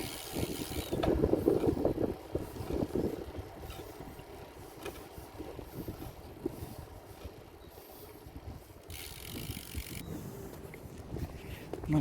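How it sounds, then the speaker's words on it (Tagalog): Strong wind blowing outdoors beside a fishing pond in Taiwan, with rumbling gusts buffeting the microphone that are strongest near the start and then ease to a steady roar, with a voice speaking at times. "Malakas yung hangin guys."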